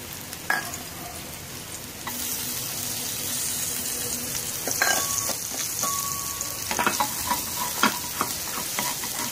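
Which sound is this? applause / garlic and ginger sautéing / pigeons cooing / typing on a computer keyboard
garlic and ginger sautéing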